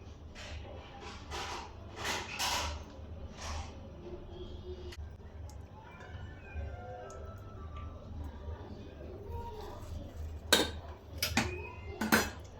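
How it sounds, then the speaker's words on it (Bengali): A cooking pot set down on a home kitchen stove for a layer chicken curry, giving several clanking metal knocks and scrapes of pots and utensils at close range, with sharper clinks near the end. "পাতিলটা বসাই দিলাম"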